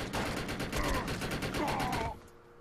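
Rapid automatic gunfire in the video game Defiance, a steady stream of loud close shots with a high-recoil weapon lasting about two seconds before stopping abruptly.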